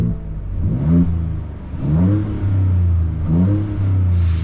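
Ford Ranger Raptor engine revving in Baja mode, three loud deep growling rises and falls with turbo whir, close and alone.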